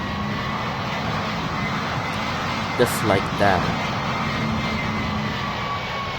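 Aircraft engine noise from a plane in Roblox Pilot Training Flight Simulator, engaged in reverse thrust at full power, a steady loud drone held throughout, with a brief spoken phrase over it midway.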